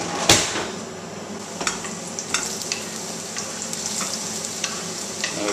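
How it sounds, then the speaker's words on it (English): An omelette mixture fries in oil in a pan while a spatula stirs it, steady soft sizzling broken by sharp scrapes and knocks against the pan, close by and without talk. "I'm just going to stir these through, get them nice and browned and mix"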